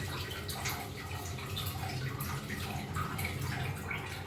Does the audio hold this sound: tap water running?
yes